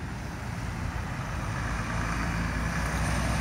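A truck rumbles past at a roundabout near a river, a steady broadband roar of engine and tyres that swells slightly as it goes by, with no voices.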